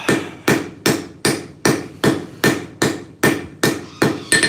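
A hammer cold peens metal in place in a smithing shop, a dozen loud ringing blows landing in a steady, even rhythm about every 0.4 seconds, close and alone without talk.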